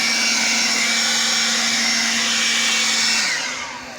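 An EGO battery-powered leaf blower runs at a steady high whine with a strong rushing airflow, loud and close, then begins to spin down near the end.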